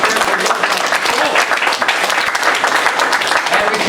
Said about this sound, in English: So the PTO at Mills Lawn deserves a round of applause.